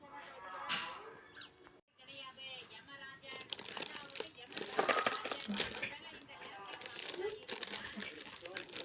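A wrapped gift being torn open and unwrapped, with crinkling and tearing paper sounding up close in bursts throughout, mixed with a voice talking.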